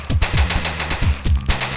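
Rapid automatic gunfire from the online shooter game Rival Fire in a 2v2 match, loud, close bursts of cracking shots in quick succession with short gaps between volleys.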